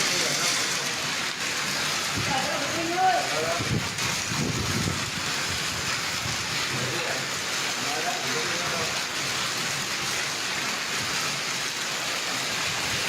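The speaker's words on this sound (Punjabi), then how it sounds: "ਬਹੁਤ ਤੇਜ਼ ਮੀਂਹ ਨਾਲ ਗੜੇ" Heavy rain with hailstones pours down in a dense, continuous hiss, with faint scattered voices in the background and occasional sharper patters from falling hail.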